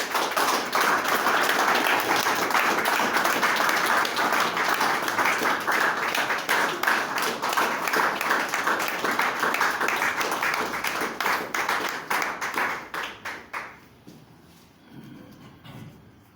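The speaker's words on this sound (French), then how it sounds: "Je voudrais, s'il vous plaît, qu'on l'applaudisse encore." Strong audience applause at a political tribute gathering, a dense clapping roar that settles into rhythmic unison clapping before breaking up and fading to scattered claps and quiet murmur.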